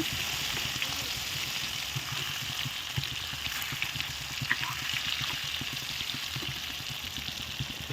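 Fish, Kerala style, frying steadily in a pan on low heat while its second side cooks, a continuous close sizzle with fine crackling pops, even and moderately loud throughout, no voices.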